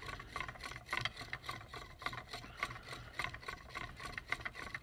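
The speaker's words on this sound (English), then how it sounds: "this drill could actually go fairly quickly through the soapstone" A hand drill bores a hole into soft soapstone, a steady rhythmic rasping grind repeating about twice a second, close and moderately quiet with no talk.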